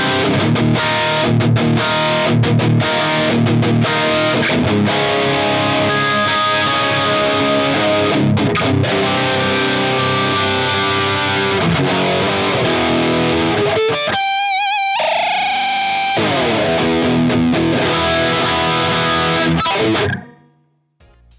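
Heavily distorted electric guitar through an Axe-Fx high-gain red channel plays loud, saturated chords and riffs with a thick crunch, briefly dropping out midway before ringing on and cutting off.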